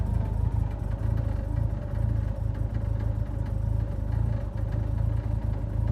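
A 1JZ engine swapped into a Mazda FC RX7 idles roughly, a steady low throbbing rumble with uneven clattering pulses, close and continuous with no talk.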